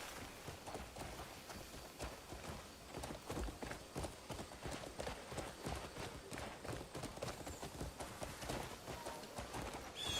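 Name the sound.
horse hooves clip-clopping in video game Crimson Desert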